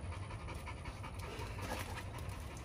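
A young XL pitbull puppy panting in quick, soft, steady breaths, close by and faint, with no talk.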